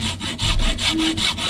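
A Volkswagen T4 sliding door scrapes along its guide rail in a rhythmic series of rasping strokes, loud and close, with no voices.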